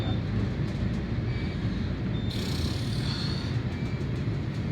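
Tower of the Americas elevator in San Antonio, Texas, rises with a steady low rumble and whooshing hum of machinery and moving air, continuous and fairly loud throughout, with faint higher whine partway through.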